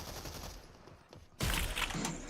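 Shotgun fire in a first-person shooter video game, a quiet stretch of background noise giving way to a sudden loud blast that booms on with a rumbling tail, with no talk over it.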